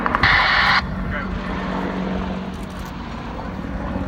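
An Apache helicopter flies a display at the 2017 Cosford air show, its steady engine and rotor drone rumbling throughout, with a louder burst near the start and commentary over the top.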